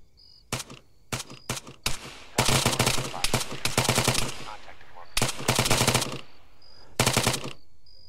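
Automatic rifle and machine-gun fire in the combat game Arma 3: a few short separate shots, then long rapid bursts that pause and resume, loud and close.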